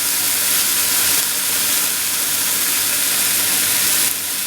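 Mushrooms fry in a pan for risotto, browning deeply, giving a steady loud sizzle and hiss that runs unbroken from start to finish with no voices.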